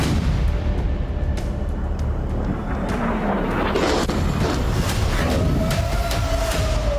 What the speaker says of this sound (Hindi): ये इस्फहान पर इसराइल का मिसाइल हमला था जिसके धमाके की आवाज कई मील दूर तक गई